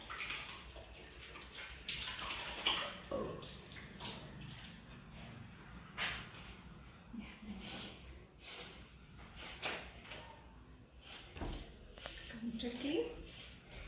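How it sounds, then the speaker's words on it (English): Water runs steadily from a kitchen tap as hands are washed during lachcha paratha frankie preparation, a continuous close splashing hiss with small shifts in flow throughout. "I need to wash my hands"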